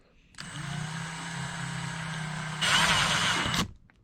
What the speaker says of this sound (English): I put the drill in reverse and take that hole saw backwards to cut the hole